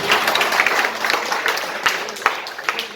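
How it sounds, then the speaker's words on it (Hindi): An audience at an insurance agents' meeting in a hotel in Orai applauds for ISRO engineers, a full burst of many hands clapping that stays strong and fairly close for the whole stretch. "तो एक बार जोरदार तालियां उनके लिए।"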